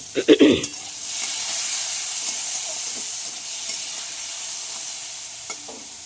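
A pan of bitter gourd and potato curry sizzles and hisses steadily on the stove after a few brief clattering knocks at the start, the frying sound holding at an even, moderate level throughout.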